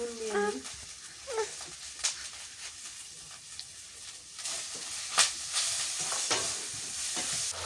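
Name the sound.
chili, turmeric and curry leaf powder sautéing in pan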